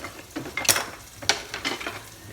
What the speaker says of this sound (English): So put the carrots in so you can already hear it sizzle.